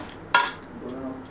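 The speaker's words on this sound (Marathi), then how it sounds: "त्यावर चिकनचं पातेलं ठेवूयात।" A pot of chicken biryani is set down on a thick-bottomed griddle over a gas flame, giving one brief metallic clank in an otherwise quiet kitchen.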